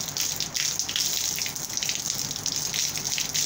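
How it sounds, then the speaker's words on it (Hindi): Steady running water rinsing dung off a cow's vulva before artificial insemination, a continuous close splashing wash with no break across the clip. "ये बिल्कुल साफ कर लेना पहले आपने पानी के साथ"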